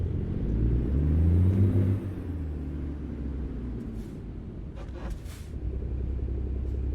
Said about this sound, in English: Now I have a 9900 with a 10 speed and probably not a huge amount of power, pulling a heavy load.